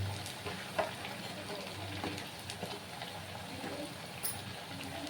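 Punugulu made from leftover idli batter frying in hot oil, a faint steady sizzle and bubbling with a few soft clinks from utensils, fairly quiet throughout.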